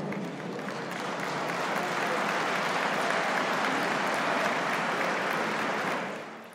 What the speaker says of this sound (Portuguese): Ouviram-se aplausos.